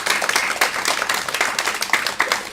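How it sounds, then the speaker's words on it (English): An audience applauds students from Our Lady's school with dense, steady clapping that carries on, fairly loud and close, through the whole stretch with no voices over it. "give them a round of applause"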